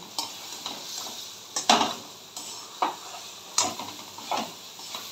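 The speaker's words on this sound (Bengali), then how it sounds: "বেশ খানিকক্ষণ একটানা আপনাদেরকে একটু এটা খুন্তিটা চালাতে হবে, নাহলে কিন্তু ডালটা লেগে যেতে পারে কড়াইয়ের সাথে" A spatula scrapes and stirs thick lentil paste for dhoka frying in oil in a wok, giving repeated close scraping strokes every second or so over a faint, steady sizzle.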